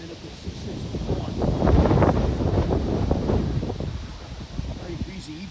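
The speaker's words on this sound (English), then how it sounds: "Very breezy evening here." Breezy evening wind blows steadily across an outdoor microphone beside a Long Island Rail Road line, giving a continuous rushing, buffeting roar that swells in gusts and carries faint rustling.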